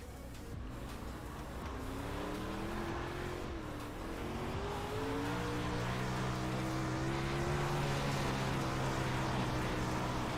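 A race car engine drones on the track as it turns laps, its pitch rising and dipping through corners while the loud, constant roar slowly builds.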